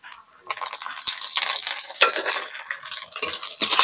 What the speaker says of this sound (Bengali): এবার আমি বেটে রাখা আদা রসুনের পেস্টটা দিয়ে দেব